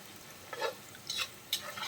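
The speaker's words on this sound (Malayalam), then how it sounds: "സവാള ഇട്ട് കഴിഞ്ഞാൽ നമ്മൾ കൈ എടുക്കാൻ പാടില്ല കേട്ടോ, ഇളക്കി കൊടുത്തോണ്ടിരിക്കണം." Sliced onions for soya biryani fry in a pan while being stirred, giving a faint sizzle with three or four soft scraping strokes spread across two seconds, close and quiet.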